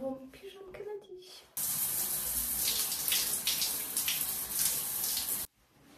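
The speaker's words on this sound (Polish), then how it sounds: "Czas wskoczyć pod prysznic" A home shower runs in a steady, loud spray of water hitting a surface, starting abruptly after a quieter stretch and stopping sharply near the end.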